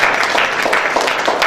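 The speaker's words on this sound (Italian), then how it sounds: "Ancora un applauso" An audience at a Sicilian-language poetry book presentation gives a steady round of applause, dense and close, with no voices over it.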